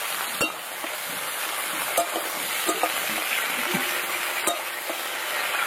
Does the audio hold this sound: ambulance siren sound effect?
no